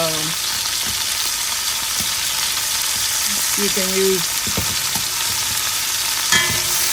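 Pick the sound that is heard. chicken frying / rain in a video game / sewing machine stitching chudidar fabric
chicken frying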